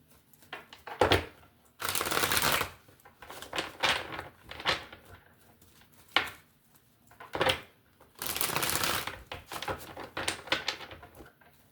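Tarot cards are shuffled in repeated bursts of crisp riffling and flapping with short quiet gaps between, close and fairly soft, with no talking.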